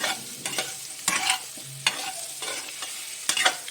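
Potatoes with ground spices, dried coriander and garam masala being stirred in a pan: close scraping strokes at an irregular rhythm over a soft sizzle, with no voices.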